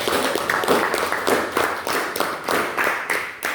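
A small group claps in a loose, uneven rhythm for a few seconds, the claps fairly close and moderately loud.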